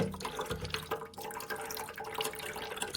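Descaling solution poured into a coffee maker's water reservoir that already holds some water, a steady trickling liquid pour heard close up for a few seconds.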